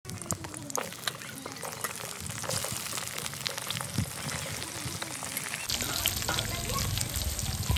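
Sliced pointed gourds go into well-heated mustard oil, and the pan keeps up a dense, crackling sizzle at close range that grows a little louder toward the end.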